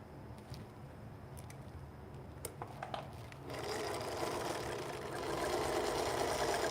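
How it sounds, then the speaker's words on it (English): Sewing machine stitching a quarter-inch quilt seam for liberated piecing, a steady mechanical hum with a few light clicks at first, then running faster and fuller, close and moderately loud with no talking. "And now I'm sewing across the seam"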